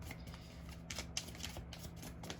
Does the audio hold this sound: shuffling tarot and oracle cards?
yes